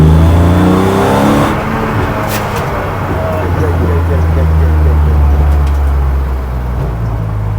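A race car's engine drones loud and steady with low harmonics while coasting downhill, its tone shifting a little as it pulls, with people talking over it inside the cabin.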